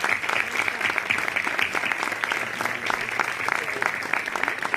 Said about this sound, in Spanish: Este aplauso para ella.